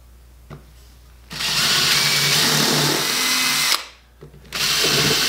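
A countersink drill bit bores into wood against a backer board, a steady loud whirring grind lasting about two and a half seconds, then a short pause and a second burst of drilling starting again.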